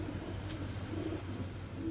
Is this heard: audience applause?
no